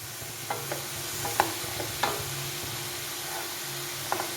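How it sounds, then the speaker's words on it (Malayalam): A utensil stirs vegetables and coconut cooking over low heat in a pan, with a soft sizzle throughout and a handful of light scraping clicks spaced irregularly. No one speaks. "ഇനി നമുക്ക് ഇത് ഇളക്കിയിട്ട് കൊടുക്കാം"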